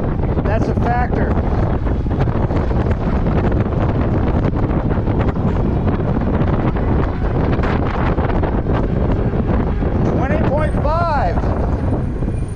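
Heavy wind buffets the microphone continuously while riding an Engwe EP 2 Pro folding fat-tire e-bike into a headwind along a straightaway, a loud, steady roar with someone talking over it.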